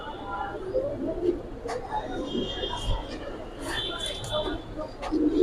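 Giribaz silver pigeons coo softly in a pigeon market setting, with faint low coos scattered through a busy, noisy background and people talking nearby.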